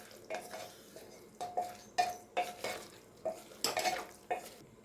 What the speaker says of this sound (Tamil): மஷ்ரூம் சேர்த்து நல்லா கலந்துக்கலாம்.